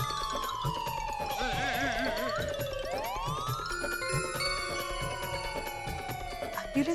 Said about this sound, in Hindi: ये सायरन तो एम्बुलेंस का है।